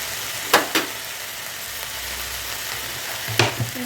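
Carrots, potato, pumpkin and pui shak stalks being stirred in a pan, a quiet continuous sizzle with a few brief scraping strokes of the spoon, close by and without speech.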